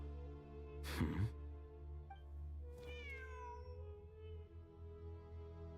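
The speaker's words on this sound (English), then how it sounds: "Wait, there it is! The cat!" A cat in the Genshin Impact video game lets out two soft meows, each a short rising-and-falling call, over a steady droning game soundtrack with no talking.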